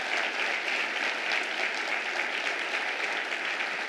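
Steady, dense applause from an audience at a city's State of the City address, honoring the Parks and Recreation department staff; even and sustained throughout, with no voices over it.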